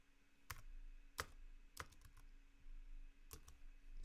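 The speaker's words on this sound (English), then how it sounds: "Sorry if I'm smashing the keyboard." A computer keyboard struck hard during coding gives a few sharp, isolated key clicks spaced irregularly over a quiet room background, with no one talking.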